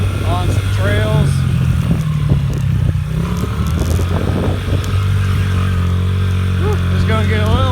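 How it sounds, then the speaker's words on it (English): Dirt bike ridden along bumpy nature trails, its engine droning steadily and close throughout with rattling clatter, while a person talks over it. "we're riding the dirt bike on some trails"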